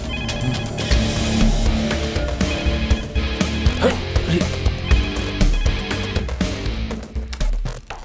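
A telephone rings repeatedly in a home scene from a dubbed Bollywood film, with the ringing mixed under a dense, loud soundtrack.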